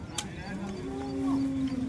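A hornless cow at the Modnimb cattle market lets out a single long, rising moo, close and clear over faint crowd murmur.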